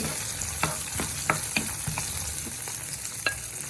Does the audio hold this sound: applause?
no